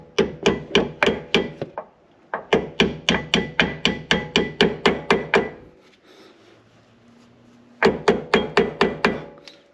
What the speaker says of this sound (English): we just take a hammer and push in the pin from the other side